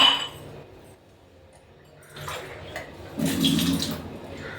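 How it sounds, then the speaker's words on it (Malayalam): Water poured onto sugar in a pan for homemade hair-removal wax: two short pouring splashes, the second louder and longer, close by with no talk. "കുറച്ച് വെള്ളം കൂടി ഇതുപോലെ ഒഴിച്ചു കൊടുത്തിട്ടുണ്ട്"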